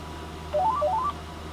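A short burst of rapid electronic beeps, a quick run of tones stepping upward, sounds from a KT-7900D two-way radio as it resets while plugged into a computer, against a low hum.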